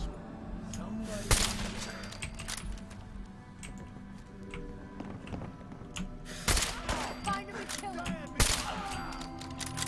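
Gunfire rings out in Fallout 4: three loud, sharp shots come spaced several seconds apart over quieter game ambience, with faint clicking sounds between them.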